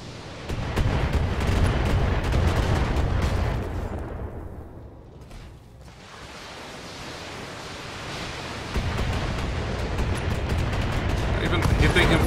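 Heavy mech weapons fire in the Battletech video game, a dense volley of booming blasts and explosions that briefly dips then rumbles on loud and continuous, with a voice speaking over the barrage.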